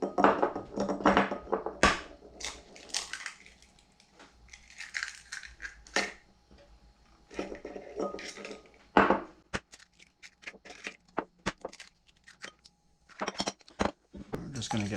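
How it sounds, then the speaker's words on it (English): Eggs cracked into a bowl holding sugar and salt, then whisked, giving sharp crunching cracks and clinking taps against the bowl in irregular bursts, close and fairly loud, with some speech between. "And then start cracking our eggs."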